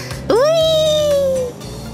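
A cartoon kitten in a children's cartoon lets out one long, bright, rising-then-falling meow, loud and close over soft background music.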